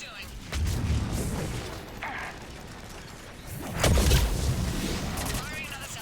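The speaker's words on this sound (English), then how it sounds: "Missiles away." Missile launches and explosions from a gunship during a battle in the video game Mass Effect 3, with deep rumbling booms rising near the start and again in a louder blast midway, mixed with mechanical clatter and voices talking.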